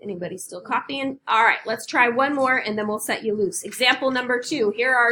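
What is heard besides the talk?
No distinct noise like a dog, phone or traffic.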